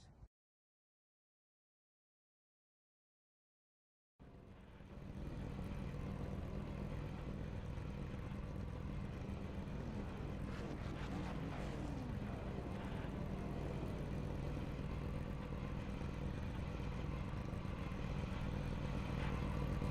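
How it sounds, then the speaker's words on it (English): After a few seconds of silence, racing truck engines in a racing video game start up at Martinsville and settle into a continuous low idle rumble that holds steady to the end. "Drivers, start your engines."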